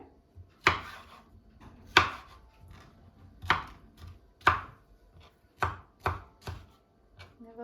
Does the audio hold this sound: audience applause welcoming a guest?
no